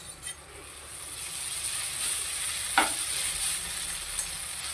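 Maggi noodles tossed into a pan of fried vegetables, a steady broad sizzle with soft stirring scrapes and one brief sharper clink near the middle, close and moderately loud with no talking.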